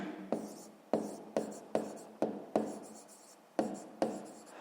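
Pen strokes on paper during a fifth-grade math exercise come as a series of about nine sharp, close scratches, each fading quickly, in a quiet room.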